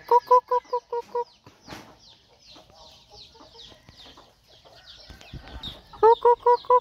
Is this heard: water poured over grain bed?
no